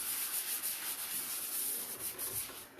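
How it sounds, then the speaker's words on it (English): Steady, scratchy rubbing of sandpaper on a painted wooden dresser, continuous back-and-forth strokes, close and fairly loud with no talking. "So I'm just going to brush this piece, just to give me a nice smooth surface."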